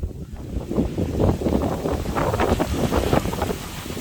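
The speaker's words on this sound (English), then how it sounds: "I get dirt mad, it's so windy." Strong wind in the Japanese countryside buffets the microphone in a steady, loud roar with gusty surges throughout, and no voices.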